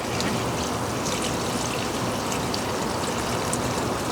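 Water pours steadily and loudly over garden plants, peanuts and loofah, a continuous close splashing rush with no pauses.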